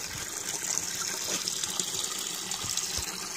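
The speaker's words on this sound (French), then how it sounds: "Donc il y a une sorte de fontaine." A garden fountain at a primary school, its water recirculated through a filter, flows and splashes in a steady continuous gush with no one speaking.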